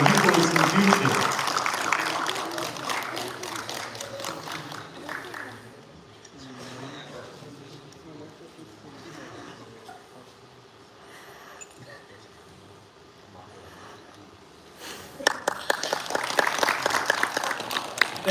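Audience applause at a youth armwrestling event, a burst of clapping at the start and another swelling at the end, with a quieter stretch of crowd murmur and talk in between.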